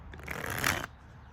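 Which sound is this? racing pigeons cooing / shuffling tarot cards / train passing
shuffling tarot cards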